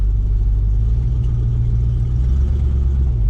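A car engine in the Forza racing game holds a low, steady rumble at light throttle, a continuous loud drone with no clear rise in revs.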